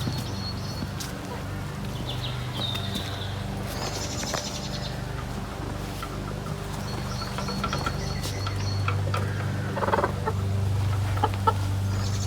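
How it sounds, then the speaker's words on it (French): A brooding hen gives low, drawn-out clucks and murmuring calls, close by, with some rustling and handling noises around it as she is moved. "la poule qui couve"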